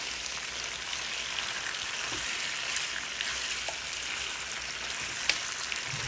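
Beef chaap fries with chili flakes in a pan, giving a quiet, even sizzle with faint stirring ticks and one brief knock near the end, no voices.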